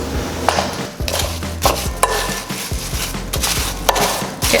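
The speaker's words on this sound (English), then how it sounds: "now I'm gonna go ahead and give this a nice mix" Apple crumble filling with ground cinnamon and vanilla extract is mixed in a bowl, giving uneven scraping, knocking and stirring strokes, close by, each followed by a short pause.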